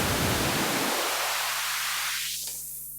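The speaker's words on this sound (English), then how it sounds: "We are cutting low frequencies and letting high frequencies pass through." Broadband hiss passes through a high-pass, low-cut filter whose cutoff sweeps upward, so the noise starts full and rumbling and then thins into a bright, airy hiss that fades slightly over three seconds.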